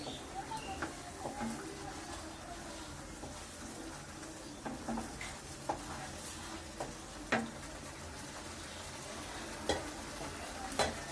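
Ginger-garlic paste fries in a pan for a homestyle chicken roast, making a soft, steady sizzle broken by spatula stirs and scrapes, with faint cooing birds in the background.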